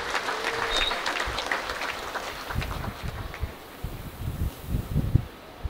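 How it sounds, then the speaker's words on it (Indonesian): Applause from a crowd at a university graduation ceremony, a dense sustained clatter of clapping that swells and thins with sharper bursts toward the end, heard alone with no speech. "Tepuk tangan boleh untuk kita semuanya."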